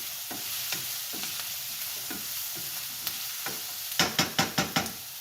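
Coriander and curry leaves are stirred in a sizzling pan, giving a steady frying hiss with soft, spaced scrapes, then a quick run of five sharper scraping strokes near the end, close by and with no voices.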